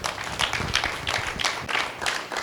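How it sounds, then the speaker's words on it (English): A church congregation claps hands in a quick, rhythmic beat, a burst of many hands clapping together with steady pulses at moderate distance. "Let's give a mighty hand clap to the Lord."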